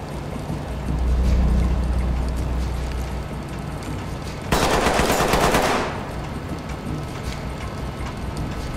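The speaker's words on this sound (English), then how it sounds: "No idea where those shots came from" Rapid gunfire in Ready or Not crackles from a distance across a warehouse scene, with one loud, dense burst of shots standing out near the middle against steady background noise.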